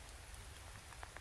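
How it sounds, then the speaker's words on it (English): Rain beats steadily on a tent during a fast-moving storm, a soft dense patter with a few louder drops striking near the end, no voices. "I can hear the rain beating on the tent"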